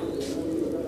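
A pigeon coos in a low, continuous murmur close by, with the steady hum of other birds around.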